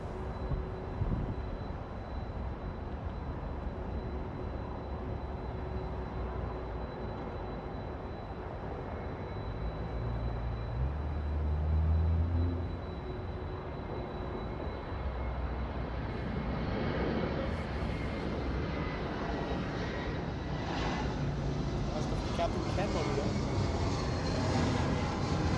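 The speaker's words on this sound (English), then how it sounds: "That's the engine sound you hear right now." A Boeing 767-300 on the Honolulu flight at LAX runs its engines, a steady broad rumble and hiss with a faint whine, growing slightly rougher toward the end, heard alone without talk.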